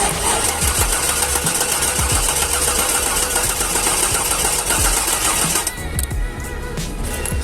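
A Corvette C5 engine cranks steadily as it tries to start, a loud, continuous mechanical churning that runs for several seconds before dropping away near the end without catching.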